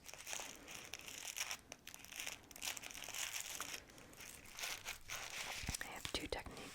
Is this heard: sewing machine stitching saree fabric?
no